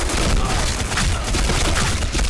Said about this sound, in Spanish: Voy a tirar una granada por allí.